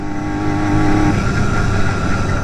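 A BT100 motor on a motorized bicycle drones steadily at high revs during a ride, loud and close with a buzzy engine tone and wind rush, no speech.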